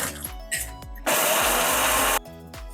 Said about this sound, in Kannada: ಮೊದಲಿಗೆ ಮೆಣಸಿನ್ಕಾಯಿನ ಪೌಡ್ರ್ ಮಾಡ್ಕೋತೀನಿ ನಾನು